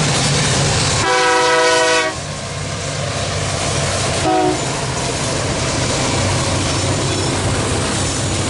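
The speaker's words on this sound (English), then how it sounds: "he gave me what I believe is called a shave and a haircut horn show" A BC Rail locomotive horn on the Three Hills subdivision plays a shave-and-a-haircut pattern: a loud, sustained blast followed by a brief second toot, over a steady rumble of the passing train.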